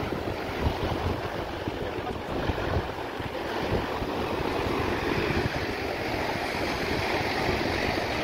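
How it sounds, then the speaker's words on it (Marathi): Strong monsoon sea waves surging and breaking along a crowded Goa beach shore, a continuous loud wash of surf mixed with heavy wind noise on the microphone. "हे बघा पूर्ण किनाऱ्यावर लाटाच लाटा"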